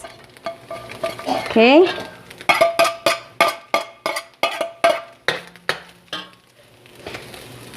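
Garlic, white onions and scallions fry in a pan for an empanada beef filling, with about a dozen rhythmic spatula scrapes and clinks over a soft sizzle. A voice speaks one brief word.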